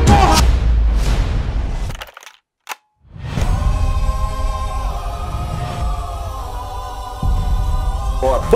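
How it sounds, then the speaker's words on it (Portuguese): A sudden burst like an energy blast from a dubbed Sonic movie trailer cuts off sharply into near silence before a humming, tonal aftermath with sustained buzzing and a second thump near the end. "Uma explosão de energia acabou com a eletricidade."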